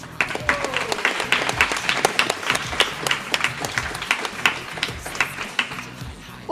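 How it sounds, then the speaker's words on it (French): A school audience at an art exhibition opening claps with distinct, closely spaced hand claps, a moderate crowd applauding steadily throughout at fairly close range. "Remercions-les avec un grand applaudissement."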